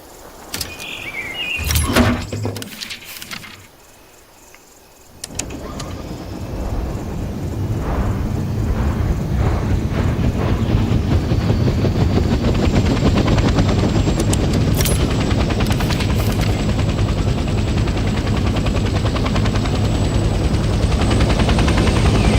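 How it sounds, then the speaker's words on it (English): A military helicopter in the Vietnam-era game Hell Let Loose starts up with a few clicks and a whine, then its engine and rotor settle into a loud, steady, pulsing roar that builds and holds. "Let's start by getting in the pilot seat and turning the engine on."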